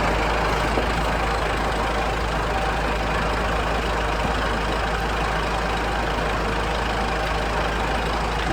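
A steady, low tractor engine rumble idles continuously at an even level, close by, with no voices over it.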